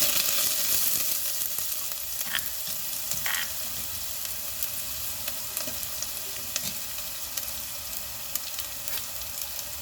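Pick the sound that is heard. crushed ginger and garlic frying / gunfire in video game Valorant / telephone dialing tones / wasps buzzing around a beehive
crushed ginger and garlic frying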